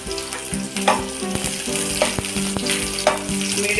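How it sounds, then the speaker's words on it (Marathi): Onion frying in a little hot oil in a pan, a loud close sizzle with intermittent stirring scrapes and taps against the metal, no voices. "पॅन ठेवलेला आहे, थोडंसं तेल टाकलेलं आहे, त्याच्यामध्ये आता कांदा टाकून घेऊया भाजण्यासाठी।"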